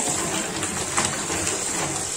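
Tap water gushing steadily into a container to soak mussels, a continuous close splashing rush with no pauses.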